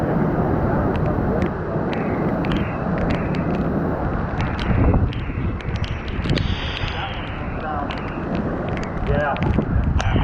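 Strong hurricane wind from Hurricane Michael roars steadily and loudly throughout, with gusty rushing and buffeting noise filling the scene, while people talk faintly underneath.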